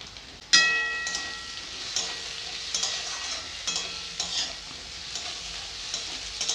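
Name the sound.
peas being added and stir-fried in a pan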